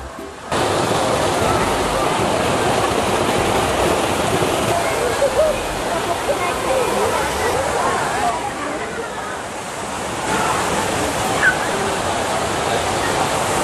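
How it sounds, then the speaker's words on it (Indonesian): Small artificial waterfalls splash steadily into a rustic natural swimming pool set among stone gardens, a continuous broadband rush of falling water close by with no pauses. "air-air terjun mini ini sangat menambah suasana menjadi lebih asri"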